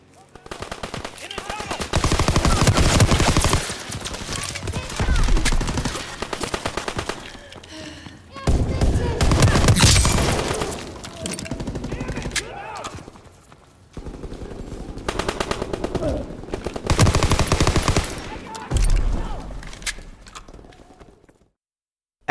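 Rapid bursts of PPSh submachine gun fire in the World War II shooter Call of Duty: WWII, loud and close, with several long volleys separated by short pauses and a slower-than-expected rate of fire.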